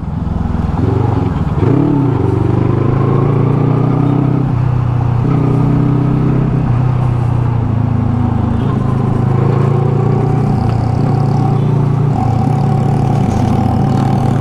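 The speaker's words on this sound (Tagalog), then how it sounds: "Napaka-smooth lang ng makina talaga" A motorcycle engine idles steadily and smoothly close by, with a low, even rumble and slight rises in revs.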